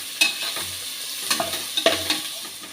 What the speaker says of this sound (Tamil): இந்த பூண்டு ஜீரகம் ரெண்டும் சேர்த்து வதக்கும் போது